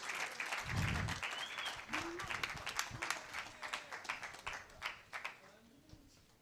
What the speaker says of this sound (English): A round of applause for them as they come on stage.